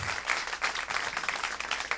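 A church congregation applauds together at a marriage-themed service, dense steady clapping filling the space for two seconds with no voices on top.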